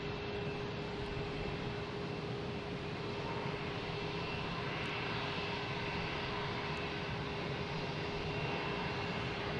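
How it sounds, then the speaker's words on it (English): An Aer Lingus Airbus A320 arriving from Dublin to land at Boston Logan gives a steady, loud, broadband jet roar that holds evenly throughout with no talking. "we have Aer Lingus coming in from Dublin,"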